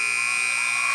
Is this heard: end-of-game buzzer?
yes